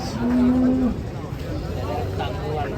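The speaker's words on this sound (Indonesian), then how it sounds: "Besar sekali sapinya." A large cow being unloaded from a truck lets out one long, loud, low moo near the start, followed by steady outdoor background noise and some murmured voices.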